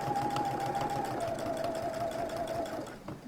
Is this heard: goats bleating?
no